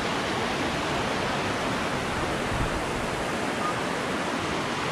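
A waterfall beside a hiking trail roars in a steady, dense broadband rush, loud and unbroken throughout with no talk over it.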